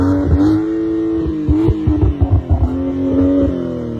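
A BMW M135i engine revs hard and loud up close, pitch climbing and dropping in repeated bursts with some choppy stutters between pulls.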